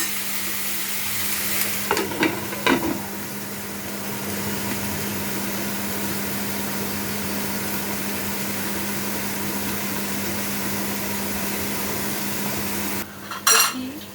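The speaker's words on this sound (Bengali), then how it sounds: "হালকা ভেজে নেব আমি" Okra and onion fry gently in a covered pan, giving a soft, even sizzle under a steady low hum, with a few utensil clinks near the start and a sharper clatter of pan or lid near the end.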